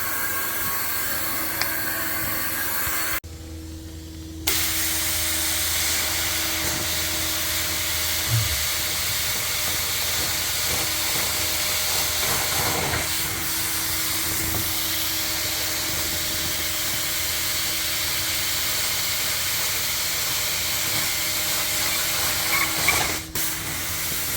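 A carpet cleaning machine sprays and rinses a carpet stained with orange paint and pet urine, giving a continuous loud steamy hiss with mechanical hum that briefly drops out, then resumes steadily.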